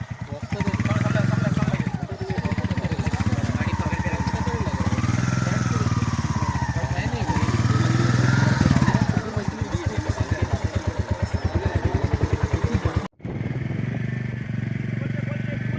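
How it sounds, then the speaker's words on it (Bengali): Royal Enfield motorcycles being loaded onto a boat for a ride to Mousuni Island, their engines thumping steadily at idle close by throughout, with people talking over the engine noise. "তো এক এক করে সব বাইক এবার নৌকায় তোলা হবে।"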